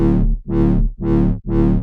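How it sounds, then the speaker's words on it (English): DX7 synthesizer heavy bass with a growling, distorted tone, played as four loud repeated notes in quick succession, each one bright at the onset and then dulling before the next begins. "We can get all sorts of interesting growl tones."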